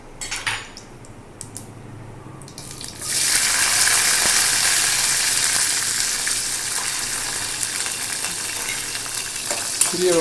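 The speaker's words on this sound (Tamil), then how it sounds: "சிறிய வெங்காயம், வெள்ளைப்பூண்டு உரித்தல், இதெல்லாம் நல்ல வதங்கணும்." Shallots and peeled garlic sauté in oil in a pan while cooking a drumstick and brinjal tamarind curry, a steady close sizzle with occasional utensil clinks and scraping, louder after a brief quieter opening.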